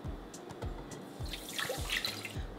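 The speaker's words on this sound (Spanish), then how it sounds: "en una ollita vamos a poner una taza de agua" A cup of water poured into a small kitchen pot makes a short splashing, gurgling trickle after a few soft knocks, close and fairly quiet with no talking.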